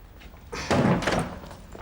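A jammed door being forced and slammed shut, a brief scraping rattle followed by a loud, heavy thud that rings on briefly before fading.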